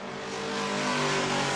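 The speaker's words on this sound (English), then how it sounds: "The lonesome Camaro comes down the main straightaway, closing it on 10 laps to go." A Super Stock Camaro race car roars down the main straightaway at New Smyrna, its engine note loud, steady and harmonic-rich, building slightly as it passes close by, with no voices over it.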